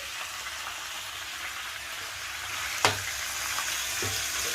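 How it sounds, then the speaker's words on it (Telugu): Tomatoes frying in a little fresh oil for a tomato and red chilli pickle, giving a steady broadband sizzle with a sharp clack of a utensil against the pan near the middle and a softer knock toward the end. "ఇప్పుడు ఇవి వాడ్చుకోవాలండి టమాటాలు"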